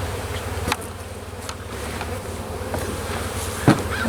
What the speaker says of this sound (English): it looks like a few bees made it past the reflectix